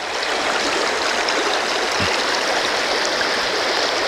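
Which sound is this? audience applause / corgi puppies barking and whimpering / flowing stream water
flowing stream water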